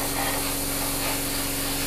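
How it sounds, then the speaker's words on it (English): Spray paint hisses steadily and lightly from a distance onto a Tamiya 1/35 M1A1 Abrams model tank, a continuous close airy spray with no pauses. "by keeping your distance and spraying on nice and light, it'll give it a really, really rough top."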